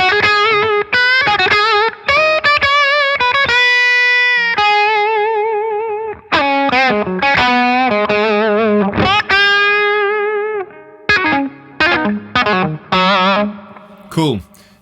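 A Gibson Les Paul Custom electric guitar with humbuckers played through a Beetronics Octahive fuzz pedal: close, loud, distorted single notes and short melodic phrases with sustained harmonic tones, fast runs and choppy stabs near the end.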